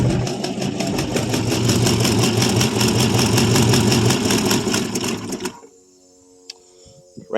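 A 1974 International pickup that sat for about 25 years, with a likely cracked manifold, runs loud and steady at close range for about five seconds, then cuts out as it runs out of gas, leaving near silence.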